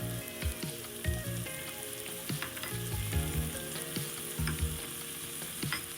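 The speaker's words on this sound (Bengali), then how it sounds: "মাশরুমটা আমার ভাজা হয়ে গেছে। এর মধ্যে আমি কর্ন আর মটরশুঁটিটা দিয়ে দেবো।" Corn and peas fry with mushrooms in a pan, a steady close sizzle broken by repeated scraping stirs and small clatters, with no voices.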